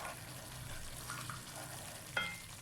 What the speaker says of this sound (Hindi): अभी इसकी हमने मज़ीद भुनाई हम करेंगे।